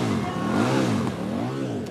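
A Formula Student race car engine restarts and revs at an endurance event, its loud, close engine note climbing and dipping in repeated surges of throttle.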